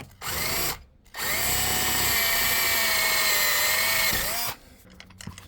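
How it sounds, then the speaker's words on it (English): A power drill bores out existing screw holes in an RV slide-out, whining steadily for a few seconds after a brief first burst, then stopping, with faint handling noises after. "the next step is to use that same drill bit that I just used to drill out all these existing holes"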